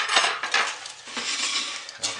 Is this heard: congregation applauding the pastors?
no